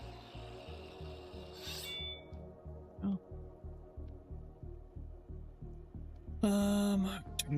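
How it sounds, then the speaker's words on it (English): A tool being sharpened in the Vintage Story video game, heard as a steady run of rhythmic rasping strokes, about two per second, close and even, with brief sharper clicks and a short bright tone near the end. "I'm also gonna sharpen this tool."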